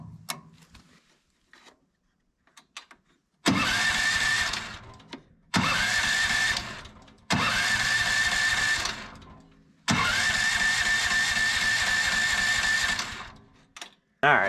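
An engine fitted with air plugs is started several times, with repeated bursts of loud motor roar separated by short pauses, the last run lasting longest before cutting off, and faint clatter between attempts.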